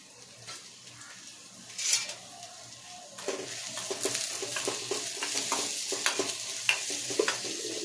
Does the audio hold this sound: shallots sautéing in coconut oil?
yes